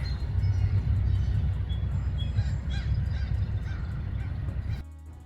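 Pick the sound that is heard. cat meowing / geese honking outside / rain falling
geese honking outside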